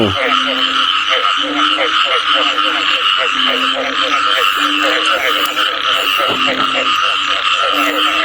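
Frogs croaking in a Thai village after the first heavy rain of the season, a dense, continuous chorus of rapid rhythmic croaks, loud and close, with no talk over it.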